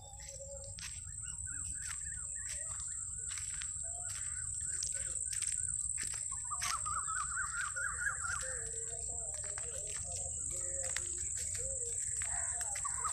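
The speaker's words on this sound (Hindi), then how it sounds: "ये कोयल की आवाज़ भी आप सुन रहे होंगे" Asian koel calling in a lemon orchard in a Punjab village, a rising run of clear notes standing out mid-distance over a steady high insect drone and other scattered bird chirps.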